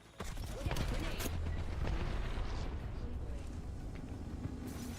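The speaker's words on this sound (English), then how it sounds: "Look out, grenade!" Grenade blast in the Apex Legends battle royale game, a loud sustained booming roar starting abruptly and rumbling on for several seconds amid other game noise, with a voice talking underneath.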